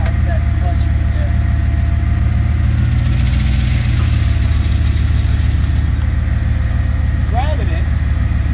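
A 1977 Dodge Power Wagon W150 with a worn-out clutch, loud engine running close up with a steady rough drone and a juddering chatter as the clutch grabs, voices talking over it.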